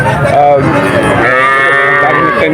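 A calf moos loudly and close by at the Betaga cattle and calf market, a drawn-out bellowing call that wavers in pitch for a couple of seconds over a busy backdrop of crowd noise.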